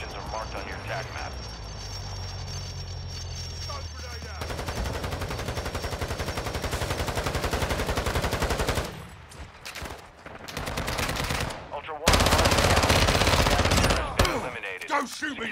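Rapid automatic gunfire in the Call of Duty Warzone DMZ video game, loud bursts coming in waves with short gaps between them, mixed with other game noise.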